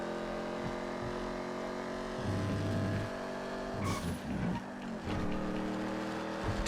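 A Ruiner muscle car racing in GTA FiveM: a loud, steady engine roar with rising and falling revs, gear changes and bursts of tire squeal, alone without talk.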